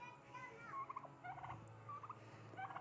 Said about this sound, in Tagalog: ayan ang kulungan ng aming mga pabo